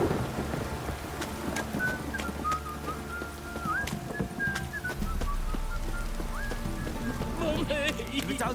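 Steady rain with horse hooves clip-clopping in The Witcher 3: Wild Hunt, a continuous wet hiss under scattered whistles and game sounds, with dialogue spoken over it.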